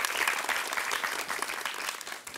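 Dense crowd clapping in a quiz show studio, a brief unbroken burst of many hands applauding a contestant at even loudness, with no voices on top.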